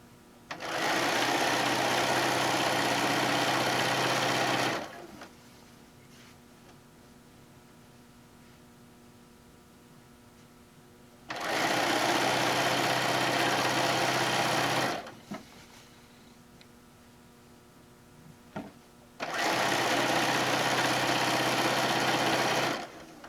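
A sewing machine stitches quilt pieces fed against the guide in three long, loud, steady bursts of rapid mechanical whirring, separated by quiet pauses with light handling noises.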